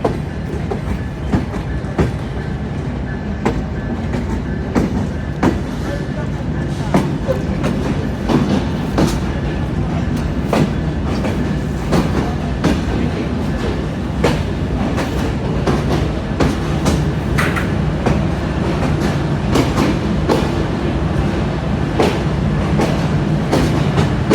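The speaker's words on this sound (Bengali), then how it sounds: "আন্তনগর জাহানাবাদ এক্সপ্রেস ট্রেনটি এখন খুলনা রেল স্টেশন প্রবেশ করছে" An intercity express train entering Khulna railway station rolls along with rhythmic clickety-clack of wheels over rail joints, loud and close, a steady rumbling motion throughout.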